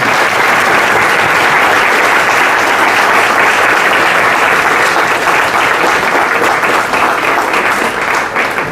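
Thunderous, sustained audience applause at a business school digital transformation conclave, dense and loud throughout with no let-up.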